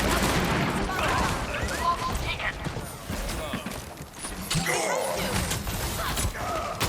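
Gunfire in the hero shooter Overwatch: bursts of rapid shots and clanking weapon sounds mixed with game effects in a busy team fight, fairly loud and continuous throughout.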